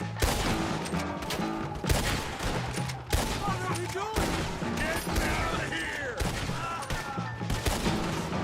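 Rapid rifle gunfire from a World War-era shooter video game where a Springfield rifle is in use, with loud repeated shots and bursts over dense battle noise throughout, and a voice talking over it.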